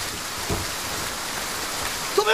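Rain from a wind-driven storm falls as a steady, dense hiss with no break, fairly loud and close. A short voice-like sound appears near the end.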